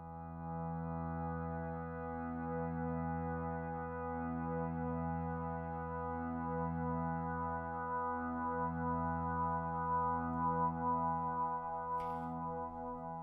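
A sustained tone from a synthesizer oscillator in Massive, buzzy and harmonic-rich, slowly wobbles in a regular pulsing pattern from an LFO, steady and alone.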